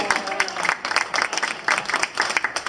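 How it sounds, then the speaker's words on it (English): Audience at a magic show clapping together, a brisk, dense patter of many hands that stays fairly even throughout. "That allows me to clap for you."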